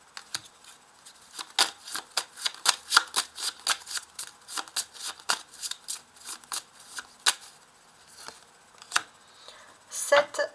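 Tarot cards being shuffled by hand for a reading, a long run of quick crisp riffling flicks in uneven bursts, close and clear, with a voice speaking briefly near the end.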